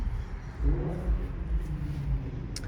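Cars passing on a road next to a garden, a low rumbling whoosh that swells and fades a couple of times, fairly steady with no voices over it.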